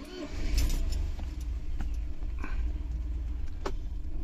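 A Mercedes W124 petrol engine fed by a Pierburg CD175 carburettor, already warm, cranks and catches quickly, then settles into a low, steady idle with a continuous deep rumble up close.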